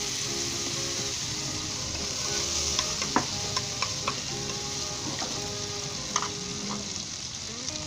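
About a tablespoon of butter sizzling in a pan over a low flame for a paneer omelette, a dense steady crackle with a few sharp stirring taps near the end.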